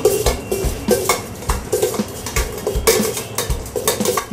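Bhel puri mixed in a bowl, rapid rhythmic scraping and clattering of a utensil against the bowl, close and fairly loud, repeating in quick strokes with no talk.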